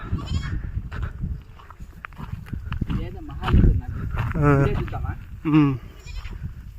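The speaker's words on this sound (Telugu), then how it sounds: "కొండపైకి వచ్చేసినాయి గొర్రెలు అన్నీ ఎన్ని గొర్రెలు వచ్చినాయో" Several sheep bleat, rising and wavering over a busy outdoor background with people talking at a hill fort, some calls close and loud, others fainter.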